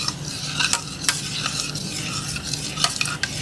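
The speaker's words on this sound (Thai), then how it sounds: "มาใส่น้ำเนี่ยค่ ะแล้วเราก็คน เพื่อให้เขาคลายความร้อนนะ" A coconut ice cream mixture with water is stirred in a pot, giving a steady swishing scrape with sharp utensil clinks against the metal throughout, fairly close and with no voices.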